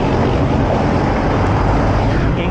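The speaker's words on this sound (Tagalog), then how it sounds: "Ingay na motor." A motorcycle on a long solo ride roars loud and steady, a dense continuous engine and wind rumble with no pauses.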